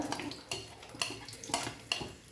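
Ginger, garlic and green chili frying in coconut oil in a pan, with soft clinks of a spoon stirring at a steady rhythm about every half second, close and fairly quiet.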